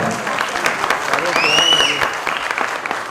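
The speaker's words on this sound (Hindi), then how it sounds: "अशरफ जी के लिए बड़ा जोरदार तालियां।" Loud, sustained applause from a theatre audience after a play, clapping steadily throughout with a voice calling out over it.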